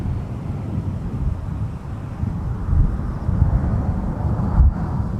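An airliner rolls for takeoff on runway 17 at MSP, a low broad roar that swells gradually, heard from a distance with wind buffeting the microphone and no talk.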